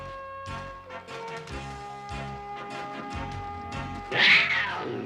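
Saber cat from the He-Man cartoon lets out drawn-out growling cat cries over a soft animated background score, with a harsher, louder snarl near the end.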